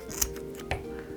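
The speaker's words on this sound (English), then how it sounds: "Now I'm gonna grab my scissors and just cut them a little bit shorter" Two crisp snips of scissors cutting jute cords for bookbinding, about half a second apart, close up over a steady low hum, with a cat nearby.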